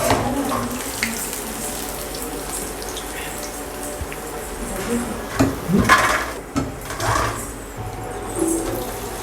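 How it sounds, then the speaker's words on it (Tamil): Already-fried chicken pieces go back into hot oil for a second fry, giving a steady, close hiss of bubbling oil with a few louder crackles and clinks. "நம்ம ஆல்ரெடி ஃப்ரை பண்ணியிருக்க சிக்கனை அப்படியே போடுறோம்"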